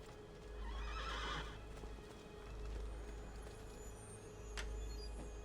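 In Assassin's Creed II Remastered, a horse gives a loud, close whinny, with hoof clops and a low rumbling ambience around it.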